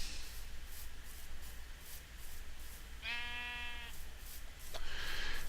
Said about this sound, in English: that ain't no sapling. That's a sheep.